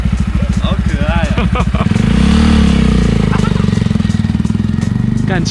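A noisy Honda Monkey motorcycle chugs with fast, even pulsing that swells into a louder, smoother drone as it is ridden; voices speak briefly over the engine early on.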